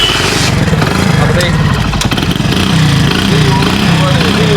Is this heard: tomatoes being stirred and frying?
no